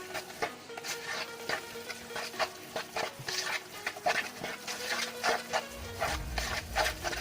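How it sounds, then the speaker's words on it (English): Beans are mixed into cooked rice in a pan, a run of close, rhythmic scraping and rubbing strokes repeating steadily with no talk over them. "And then mix these beans into the rice."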